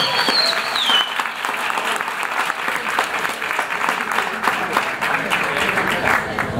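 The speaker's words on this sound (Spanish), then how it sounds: "Muy bien, un aplauso." Audience at a climate change expert panel in Colombia applauding steadily, a dense continuous wash of clapping throughout, with a faint voice heard at the start.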